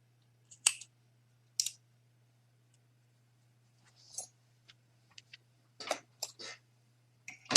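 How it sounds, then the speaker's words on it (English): Scissors cut crochet yarn in a handful of sharp, quiet snips and clicks spaced irregularly across a near-silent background with a faint steady hum. No one talks. "and cut your yarn."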